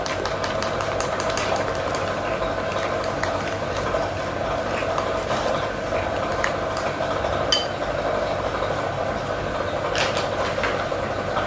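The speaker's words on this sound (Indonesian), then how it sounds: "Ini kita pastikan diaduk terlebih dahulu" Steady scraping and clattering of a utensil stirred briskly around a bowl, continuous and close, with a constant background hum.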